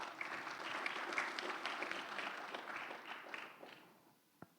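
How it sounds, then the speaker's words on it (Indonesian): An audience at a Christian sermon breaks into applause, a dense wash of clapping that holds steady and then fades out over a few seconds, faint overall and ending with a single tap. "Mana tepuk tangannya?"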